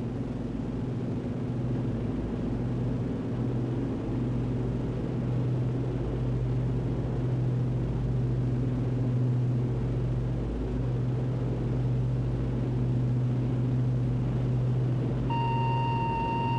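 Avro Shackleton maritime patrol aircraft in flight, a steady droning engine rumble holding at an even level throughout, with a faint electronic tone near the end.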